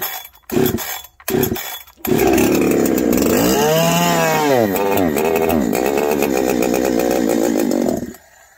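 A repaired chainsaw engine cranks with a few loud pulls, then catches and runs loud and close, revving up and down with a buzzing roar for several seconds before cutting off.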